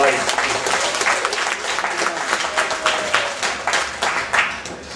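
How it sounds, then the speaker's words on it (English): Conference audience breaking into sustained applause, a dense wash of many hands clapping that swells and ripples steadily throughout. "Everyone give a big round of applause."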